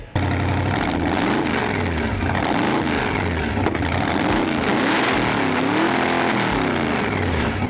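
A hot rod engine starts and revs loudly and steadily close by, its deep rumble rising and falling through repeated throttle blips from start to finish with no talk.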